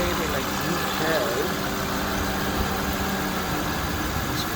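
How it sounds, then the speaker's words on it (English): A 2006 Aston Martin DB9 with a 6.0-liter V12 idles with a steady, even hum throughout, fairly close and constant, with faint voices in the background. "What the 6-liter V12 looks and sounds like."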